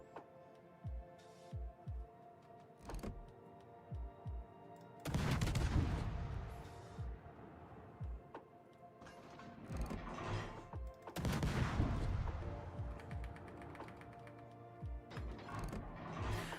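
Naval gunfire in a warship video game battle: a series of deep, thudding gun reports in irregular salvos, with two louder rushing blasts against a low background hum.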